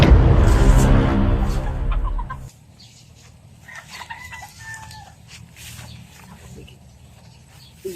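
A rooster crows loudly and close for about two seconds, then scattered softer clucks and bird calls follow against a quiet farmyard background, with faint voices in the distance.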